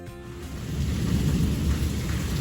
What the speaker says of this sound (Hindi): बहुत ही खूबसूरत बारिश हो रही है।